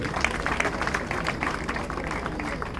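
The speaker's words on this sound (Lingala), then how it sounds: "Est-ce qu'on peut acclamer très fort s'il vous plaît?" An audience at a gathering cheers and claps when asked for loud acclaim, producing a dense, continuous patter of clapping with crowd noise mixed in.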